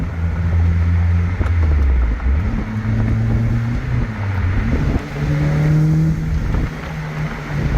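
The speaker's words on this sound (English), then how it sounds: "This is a super fun car to drive. Put it down in fifth." Steady engine drone from inside a moving 2005 Lotus Elise, pitch rising and shifting through gear changes into fifth gear, with road noise underneath and no talking.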